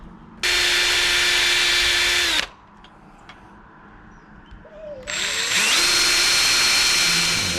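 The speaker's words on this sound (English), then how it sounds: "I'm gonna pre-drill some holes here and here." A power drill pre-drilling holes for a storm door handle and latch whirs loudly for about two seconds, stops, then starts again after a short pause and runs steadily, close by.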